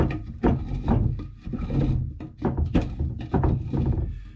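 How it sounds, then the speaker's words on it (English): Chisel paring and scraping out a small mortise in timber for a garden gate, a run of close, repeated knocks and rasping scrapes with short pauses between strokes. "just giving that a little tidy up with a chisel"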